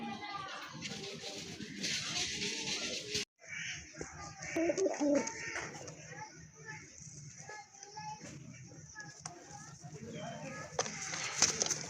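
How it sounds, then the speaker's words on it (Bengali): Pigeons coo at a breeding farm that sells fancy pigeons, a steady murmur of low calls under close talk, with children's voices and other birds in the background. "আরেক জোড়া রাজগোল্লা কবুতর মাসাল্লাহ খুবই সুন্দর"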